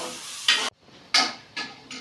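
Chicken frying in a pan for aloo chicken comes as bursts of crackling sizzle, each cut off abruptly and followed by near silence, four bursts in two seconds as the pan is stirred or lifted.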